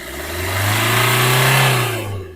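2019 Maruti Vitara Brezza VDI diesel engine revving up and settling back, a steady low drone that swells and fades smoothly, close and loud, without talk.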